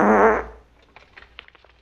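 A loud, close, drawn-out fart from Caesar in a Mel Brooks comedy scene, buzzing for about half a second before fading into faint background clatter.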